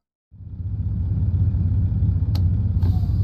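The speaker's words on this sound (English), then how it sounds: "truck engine's louder than it ought to be" A heavy truck engine in American Truck Simulator starts up and settles into a loud, deep, steady rumble that runs unbroken, with a brief click and a faint higher hiss appearing near the end.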